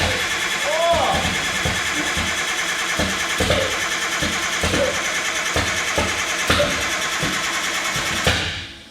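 An RB20-swapped AU Falcon engine cranks in a steady rhythmic churn and briefly catches for a moment, close and loud, with voices talking over it.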